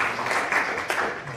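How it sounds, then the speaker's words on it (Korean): A conference audience at a presentation applauds in a brief, steady burst of dense clapping from many people. "박수를 부탁드리겠습니다."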